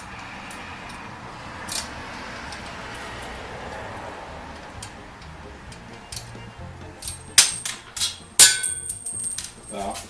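A small metal washer drops and clinks against metal parts during a mower lift assembly, a couple of sharp bright pings near the end after quieter ticking handling noise.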